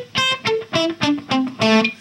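An electric guitar plays a short melody of six distinct notes that leap across wide intervals, each note struck cleanly and sustained briefly, mildly distorted and played alone.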